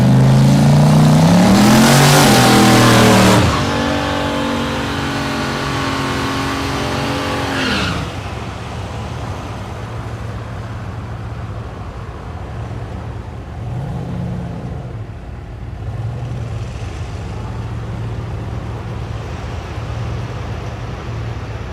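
A Chevrolet Silverado drag racing at Thunder Valley in Noble, Oklahoma: a loud, close engine revs and roars through a launch, then the note drops away into a steady, fading drone as the truck runs down the strip.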